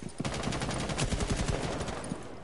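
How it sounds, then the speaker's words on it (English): Rapid bursts of automatic gunfire in Rainbow Six Siege, dense repeated shots in quick succession, loud and close, filling the whole moment without talk. "Someone make noise, shoot."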